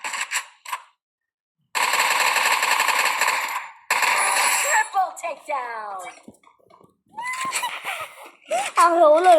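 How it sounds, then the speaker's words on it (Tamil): Rapid bursts of gunfire from the video game Free Fire. Two dense, rattling volleys fire close and loud, followed by scattered game sounds and a voice talking near the end. "அவன் எவ்வளோ நம்மளை சுட்டான்."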